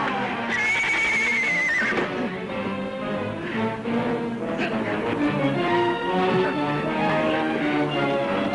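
A horse gives a loud, shrill whinny near the start, followed by snorting and restless movement close by.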